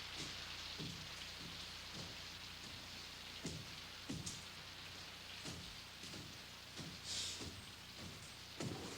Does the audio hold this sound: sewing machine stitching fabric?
no